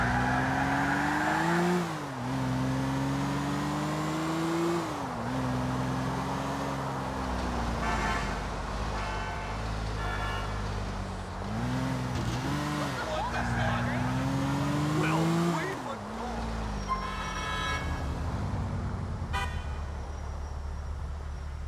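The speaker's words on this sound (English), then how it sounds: "Why is that car speeding all of a sudden?" A car speeds through the streets in the video game Grand Theft Auto IV. Its engine drones loudly and continuously, rising and falling in pitch as it revs and shifts, with road noise and occasional squeals.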